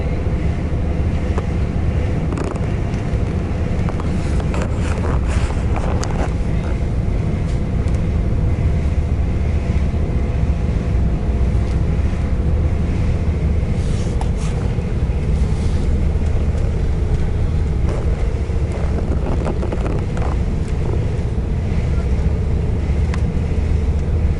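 Steady wind roars across the deck of the Vallejo ferry bound for San Francisco, a constant broadband rush buffeting the microphone over a low engine and water rumble, with no talk.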